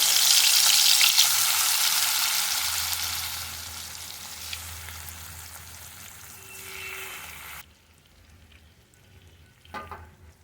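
A small amount of green chilies fry in a little oil in a wok, giving a loud, steady sizzle that gradually fades and cuts off abruptly, followed by quieter clatter.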